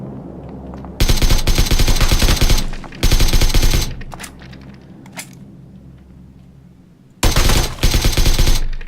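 Gunfire in the video game PUBG: three loud bursts of rapid automatic fire, each lasting a second or two, separated by quieter gaps with a couple of single faint shots in between.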